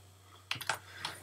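A few quick clicks of typing on a computer keyboard, close and fairly quiet, in two short bursts over a low steady hum.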